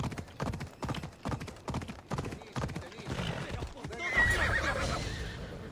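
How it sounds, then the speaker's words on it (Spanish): Horse hooves clip-clopping in a steady, regular rhythm, then a loud neigh, from the Assassin's Creed Odyssey video game; close and clear, without talk. "El caballo ha decidido que tiene el nuevo dueño."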